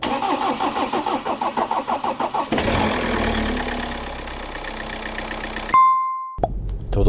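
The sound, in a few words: BMW 118d diesel engine starting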